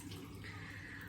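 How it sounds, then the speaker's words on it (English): Hot water from a tap running steadily over a cloth, a continuous close hiss and splash held at an even level, with no talking. "I just take a cloth and I run that under the hot water"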